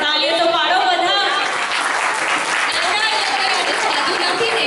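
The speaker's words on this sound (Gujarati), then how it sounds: "તાળીઓ તો પાડો બધા." A school Diwali assembly audience claps steadily, a broad wash of applause under which a voice keeps speaking and rises over the clapping.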